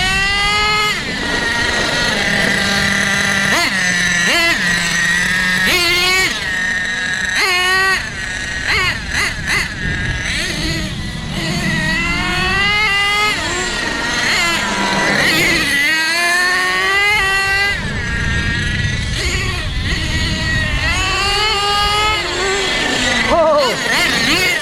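A Team Orion WASP 26 nitro engine in an Associated Monster MGT RC monster truck revs up and down loudly and continuously, its pitch rising and falling in repeated sweeps, with voices partly underneath.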